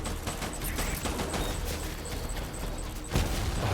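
Gunfire rattles through a firefight in the video game Death Stranding, with rapid repeated shots and bursts over a dense, noisy battle backdrop and a sharper blast near the end.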